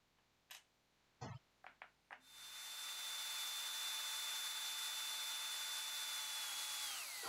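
Holes are drilled and countersunk in a brass strip with a small power drill, heard as a few short taps followed by a steady, close, high-pitched drill whine lasting several seconds, with no talking.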